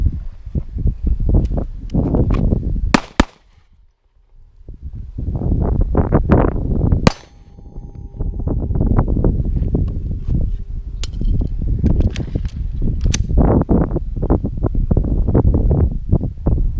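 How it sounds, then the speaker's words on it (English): Handgun shots fired from retention during shooting practice outdoors, two sharp reports, one near 3 seconds and another near 7 seconds, each cutting through steady wind rumble on the microphone. "This would be shooting from retention."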